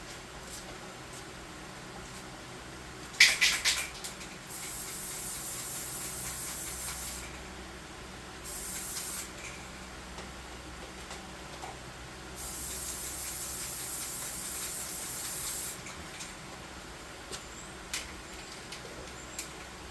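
A spray can applying clear coat to sci-fi model terrain, heard as several close hissing bursts of a few seconds each, separated by pauses, with a brief rattling spurt near the start.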